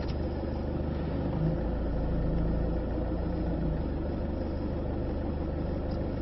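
A car engine runs at a low, steady idle while creeping backwards slowly around a street corner, a continuous close rumble with no talk.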